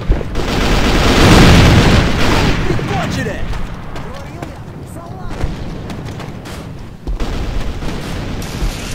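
A deep boom of an explosion in the online shooter game A.V.A rolls out and slowly fades, followed by scattered sharper crackles, with someone shouting excitedly and game voice lines around it.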